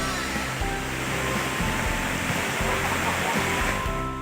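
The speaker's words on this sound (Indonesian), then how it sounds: "Seperti inilah pesona air terjun Bayangsani." The 80-metre Bayangsani waterfall in Nagari Koto Baru, Pesisir Selatan, West Sumatra roars with dense, steady rushing water, loud and continuous throughout.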